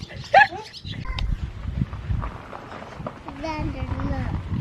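A dog whimpers outdoors in a garden during flower planting, giving a short high whine early on and a longer wavering whine near the end, mixed with voices and rustling activity.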